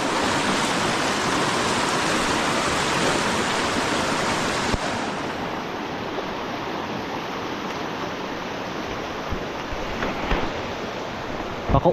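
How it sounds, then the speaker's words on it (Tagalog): Steady rain pours outdoors in a rural setting, a dense, continuous hiss that holds at an even level throughout, with a slight shift in tone midway and no voices. "Isang ulan mga kautol."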